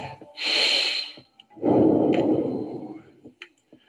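Two deep, audible breaths during a yogalates stretch: a short airy inhale followed by a longer, fuller exhale, close and clear, with small faint rustles in between.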